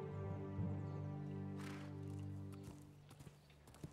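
Horse hooves clip-clop at a slow walking pace in a Game of Thrones video game, sounding as soft repeated steps beneath a sustained musical score with tonal harmonics, fairly close and steady.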